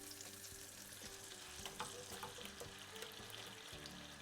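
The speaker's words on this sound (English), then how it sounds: "Just let it sizzle." Steady frying sizzle of spices, including cardamom pods, in hot oil, a constant crackling hiss with small pops, close and even, no talking.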